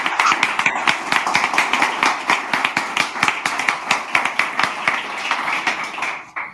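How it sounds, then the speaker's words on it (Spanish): An audience at a talk on regenerative projects claps in a dense, steady burst of applause. Individual claps stand out sharply up close, and the clapping tapers off near the end. "Un aplauso, ¿no?"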